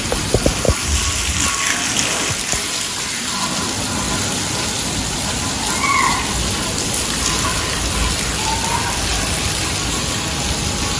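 Steady rain pours down, a dense, even hiss of drops on surfaces that continues throughout, with a few louder taps near the start.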